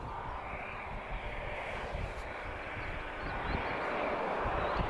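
A TAP Express Embraer E190 arriving at Lisbon from Marseille sends a continuous, rushing jet roar that swells slightly toward the end. The sound is moderately distant, with no speech.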